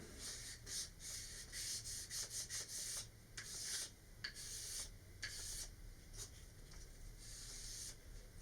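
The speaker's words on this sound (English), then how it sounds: "I'll switch to 400 grit to really smooth it out" Close, quiet strokes of sandpaper rub back and forth over resin rocket fins on a Saturn 1B model, in short irregular bursts with brief pauses and no talk.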